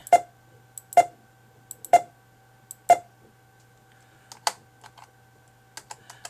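A handful of crisp computer keyboard keystrokes land one at a time in an uneven rhythm, close and clear against a quiet room, with small softer taps between the louder presses.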